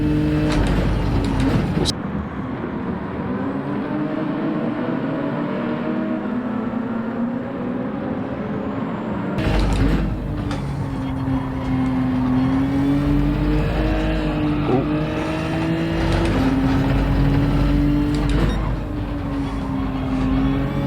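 Race car engines in Gran Turismo 7 drone loudly and steadily through a pit-lane approach, with a sharp gear change partway through and then rising, shifting revs, and no voices.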